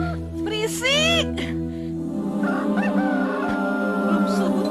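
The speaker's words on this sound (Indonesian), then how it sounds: "Belum subuh tuh ayam udah kokok." A rooster crows loudly and close by before dawn, one long cock-a-doodle-doo followed by softer clucking and more crowing over a steady background hum.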